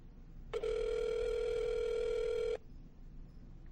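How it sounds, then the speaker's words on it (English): A phone call on speakerphone held up to a microphone: a single steady electronic ring tone lasting about two seconds, fairly loud, then cutting off into quiet room noise. "I'm going to call you on speakerphone."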